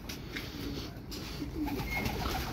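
Pigeons from a fancier's loft coo softly and steadily, low and close, with a few faint chirps over a constant background hum.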